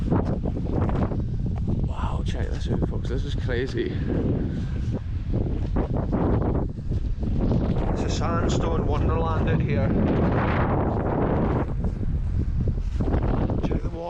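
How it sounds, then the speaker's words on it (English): Cold, strong wind gusts through a hole in a sandstone sea cliff near Dunnottar Castle, Stonehaven, Scotland, roaring and buffeting close to the microphone throughout while someone talks over it. "There's a super cold wind just howling through that hole right there."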